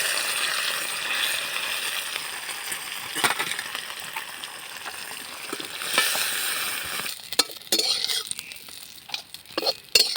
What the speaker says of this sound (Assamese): মাছখিনি ফ্ৰাই কৰিম বন্ধুসকল।